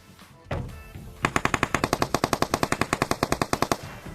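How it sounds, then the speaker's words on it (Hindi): Rapid automatic gunfire in the video game PUBG rattles off in an even burst of about two dozen shots, preceded by a single louder bang, sharp and close. "मेरे को आगे से गोली चलने की आवाज आती है"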